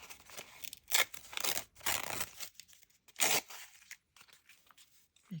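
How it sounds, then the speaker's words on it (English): Cheap napkin or book paper is torn by hand in a series of short, close ripping bursts separated by brief quiet pauses, with faint crinkling in between. "And I'm just going to tear it."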